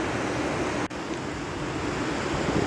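Flowing water in Kumrat Valley gives a steady, broad rushing wash, close and even throughout the short stretch, with one brief dip, no voices present.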